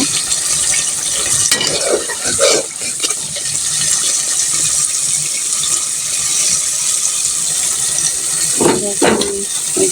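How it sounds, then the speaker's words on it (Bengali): Spices being sautéed in a pot before cooking meat, a loud continuous hiss of frying with wet stirring and occasional scraping clatters up close. "এই যে এখন আমি মশলাগুলো কষিয়ে নিচ্ছি মাংস রান্না করার জন্য"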